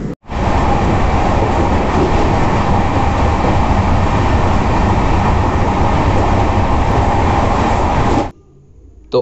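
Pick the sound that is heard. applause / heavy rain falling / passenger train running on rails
passenger train running on rails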